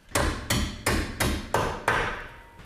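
Six sharp hammer blows land at a steady rhythm on the threaded end of a car part on a Lotus Esprit, each strike ringing briefly before the next, close and loud with no talking.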